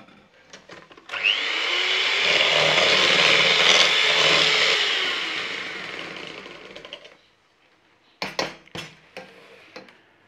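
Milk being mixed into chocolate sponge batter gives a sustained, loud whirring churn for several seconds that fades out, followed by a few sharp clinks and knocks of utensils against a bowl.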